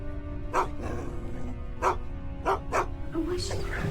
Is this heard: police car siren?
no